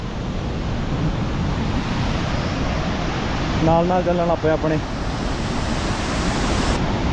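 A fast-flowing mountain river on the Manimahesh Yatra trail between Dhansho and Shivghrat pours out a dense, steady roar that never lets up, with a voice speaking briefly over it midway.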